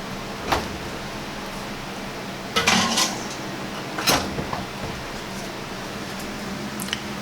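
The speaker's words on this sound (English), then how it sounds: "I'm going to take the bowl and I'm going to put it into my oven." A bowl of yeast dough is set into a warm home oven and the oven door swings shut, giving a few sharp clunks and knocks over a quiet indoor hum.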